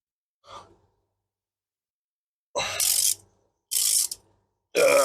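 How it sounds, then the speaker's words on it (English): A well-worn old air impact gun works on a Chevy Impala's wheel hub, first with a short faint burst, then three loud hissing, rattling bursts separated by pauses, each cutting off sharply. "It's a really old air gun."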